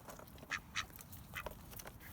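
A male duck gives several short, raspy quacks at moderate distance, spaced irregularly over quiet outdoor background noise in a garden.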